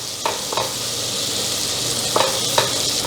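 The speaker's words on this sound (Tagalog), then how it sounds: "Sa mainit na kaldero, ilagay lang natin yung ating butter. I-melt lang natin yan." Butter melting in a hot pot over a medium flame for pumpkin soup, giving a steady, loud hiss with a few soft scraping knocks from stirring, and no talking.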